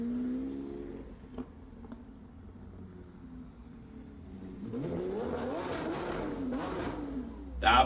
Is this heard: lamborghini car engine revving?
yes